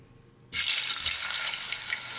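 Food drops into hot oil in a Sinbo SDF3832 deep fryer, setting off a sudden loud, steady sizzling hiss that carries on close by with no one speaking.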